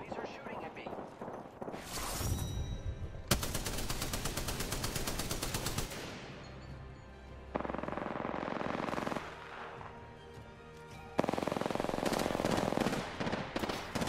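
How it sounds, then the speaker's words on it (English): Loud rapid automatic gunfire in Apex Legends comes in dense sustained bursts with short pauses, mixed with game effects and voices talking over the shooting. "The enemies are shooting at me."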